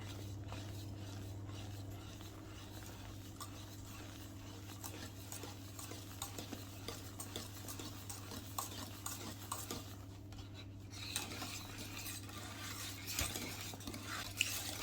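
Egg whites being folded into pastry cream for a soufflé with a spatula or whisk in a bowl, producing soft, quiet, repeated scraping and stirring strokes over a low steady hum.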